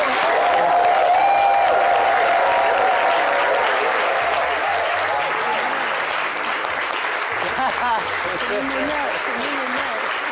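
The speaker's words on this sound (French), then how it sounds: "Les applaudissements sont bien trop faibles." A studio audience on a French daytime TV show applauds a West African kora musician, loud, sustained clapping that stays full throughout, with voices mixed in beneath it.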